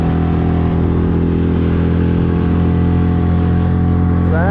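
An outboard boat motor idles steadily on a sailboat moored near Tahiti, a loud, continuous low rumble with a buzzing harmonic drone that holds even throughout, with a slight rising whine near the end.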